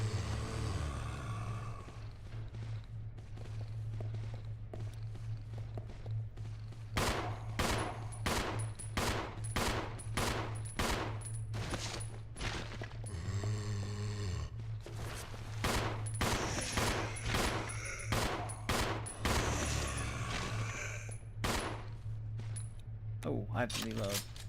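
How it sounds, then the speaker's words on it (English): Rapid shots ring out in Resident Evil 0, with dense repeated gunfire bursts running for much of the stretch over a constant low hum and intermittent speech. "I wonder if I should just shoot these guys."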